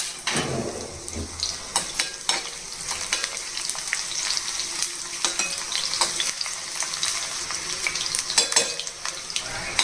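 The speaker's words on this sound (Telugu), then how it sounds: "వెల్లుల్లి రేకలు చక్కగా వేగిపోయినాయి" Sliced garlic sizzles and crackles steadily in hot oil, with occasional clinks and scrapes of a utensil against the pan.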